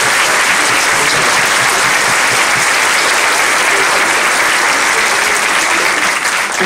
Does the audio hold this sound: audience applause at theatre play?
yes